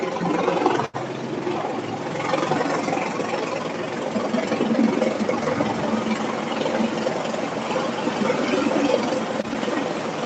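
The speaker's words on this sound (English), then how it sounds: "Pardon the helicopter." Helicopter near a hospital, a steady droning rotor and engine rumble that holds evenly throughout, with a brief dropout near the start.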